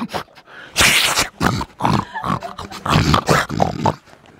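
An elderly man imitates a monkey with his voice, a run of loud grunting, chattering bursts that come in uneven rhythmic clusters close to the microphone.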